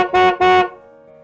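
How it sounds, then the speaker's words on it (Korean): A car horn, a taxi waiting outside a house, honks twice in quick succession, two loud, short blasts followed by a fading ring and quiet. "빵빵 경적을 울렸다."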